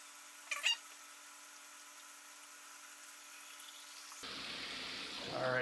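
Hot tap water runs into a plastic water bottle; after a long, nearly silent stretch, a steady rushing fill starts abruptly near the end and builds slightly louder.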